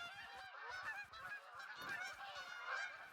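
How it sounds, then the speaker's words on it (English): Several geese honk repeatedly and loudly in The Hunter: Call of the Wild, a dense overlapping chorus of calls that continues without a break and with no talking. "Freaking geese."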